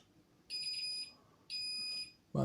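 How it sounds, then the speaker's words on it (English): Two sustained high-pitched beeps from a fire alarm control panel buzzer, each lasting about half a second, followed by a short thump at the end. "But if we do mute buzzer, it will stop beeping."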